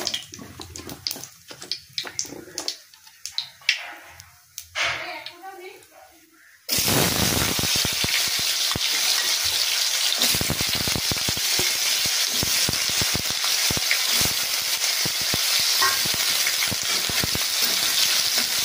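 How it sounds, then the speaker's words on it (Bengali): Potatoes hit hot oil with bay leaf tempering and a loud, dense sizzle starts abruptly partway through, holding steady to the end after a stretch of quieter kitchen noise. "এবার আলুগুলো আমি এতে দিয়ে ভালো করে ভেজে নেব"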